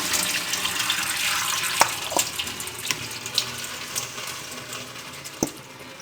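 Tap water runs steadily over ingredients for a digestive phakki as they are washed in a sieve. The close, constant splashing has occasional sharper clinks from handling.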